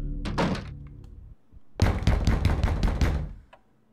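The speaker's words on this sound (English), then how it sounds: "Who's banging on the door?" Heavy thuds of banging on a door in the video game Eternal Darkness: an initial knock, a short gap, then a loud sustained burst of pounding impacts with booming low resonance, no talk.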